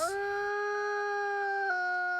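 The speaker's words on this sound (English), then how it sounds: "Wolf number 94 not only howled once, he switched directions and howled twice." A wild wolf howls on a trail camera recording: one long, steady, tonal howl that holds its pitch, then shifts down slightly near the end. It is loud and clear with no talk.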